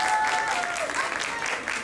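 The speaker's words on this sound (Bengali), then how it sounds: "রেশমির জন্য আরেকটা জোরে হাততালি।" An audience claps steadily for a dance performance at a stage event, a dense, even wash of many hands filling the room throughout.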